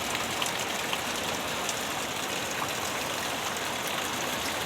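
Heavy rain pouring down in a dense, constant hiss, loud and unbroken throughout, with no voices.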